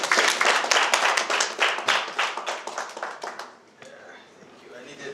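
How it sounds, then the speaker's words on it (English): Audience clapping at an evening discussion forum, a burst of many hands near and loud, thinning and fading out over a few seconds. "I needed that clap."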